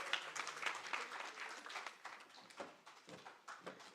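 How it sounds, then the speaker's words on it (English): Award nominees at a teaching and learning festival receive polite applause from a hall audience, a faint, moderately dense patter of hand claps lasting a few seconds. "I think we need to give a round of applause to our nominees"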